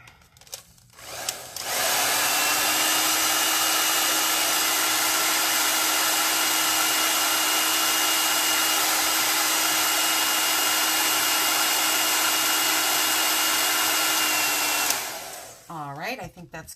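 Heat gun or craft dryer blowing steadily on wet chalk paint on an Easter bunny bucket, a loud continuous whoosh with a faint whine that runs about thirteen seconds, then cuts off.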